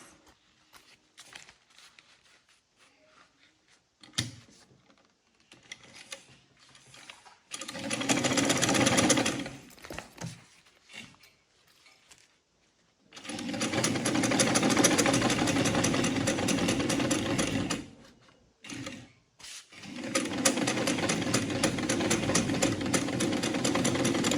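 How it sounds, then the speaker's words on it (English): Sewing machine stitching a straight seam on Ankara fabric purse lining, running in loud sustained bursts with short pauses and quieter handling between runs. "So then you sew it on a straight line together like this."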